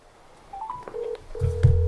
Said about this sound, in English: Let's call him.